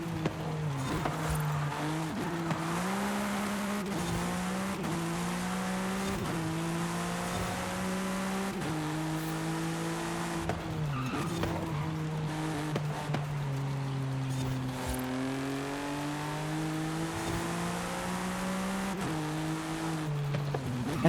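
A race car in a racing video game drones steadily through its gears, with the engine note climbing and dropping as the driver shifts, and a faint tire squeal now and then during continuous driving.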